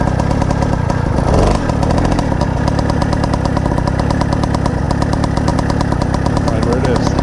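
A 1976 Carabela moped engine runs continuously and loudly up close, with a steady rattling idle that clatters and knocks throughout.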